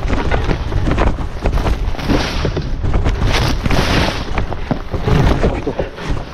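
A loaded off-road motorbike rattles and shakes over a rough, rutted track, giving a continuous jolting clatter mixed with engine noise and wind buffeting.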